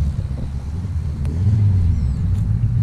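A tuned drag racing car, prepared by Porquinho, launches down the strip during a practice session in Roraima. A deep engine rumble builds and grows louder and heavier toward the end.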